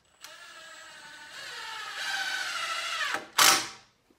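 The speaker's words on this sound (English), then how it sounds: "now that I have several screws going in at different spots in different directions, I can go ahead and sink them in there" A power drill drives screws into wooden wall framing, toe-screwing boards together: a steady whirring drone for about three seconds, rising in pitch as the screw seats, then a short loud burst of the motor and a faint click.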